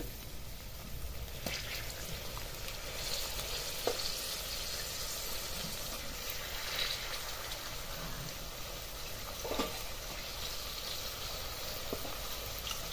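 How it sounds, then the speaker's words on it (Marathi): Soaked moong dal frying in a spiced tempering for a dry cabbage dish, giving a continuous hissing sizzle with a few faint scrapes and knocks scattered through it, no voices. "आता या फोडणीमध्ये एक चार ते पाच तास भिजवलेली मुगाची डाळ आहे"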